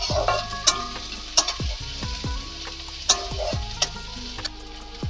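Green chillies fry in hot oil for a fish-head and Malabar spinach dish, a steady sizzle running throughout with several sharp utensil clinks and taps on the pan over it, close and fairly loud, with no talking.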